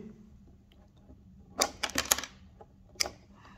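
Electrical wire snipped with cutters while installing an impulse relay with four lamps and three push buttons: a quick cluster of sharp metallic clicks, then a single snap a moment later, close against a quiet room.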